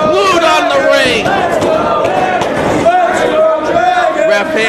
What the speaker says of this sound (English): The crowd showing their appreciation for both men.